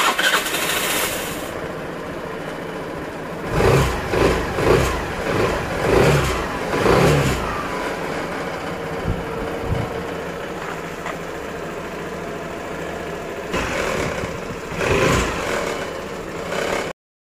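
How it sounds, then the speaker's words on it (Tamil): Suzuki Burgman scooter engine started after a general service, then idling close by with several quick throttle revs in short bursts. "நம்ம வந்து வண்டியை ஸ்டார்ட் பண்ணி பார்க்கலாம்."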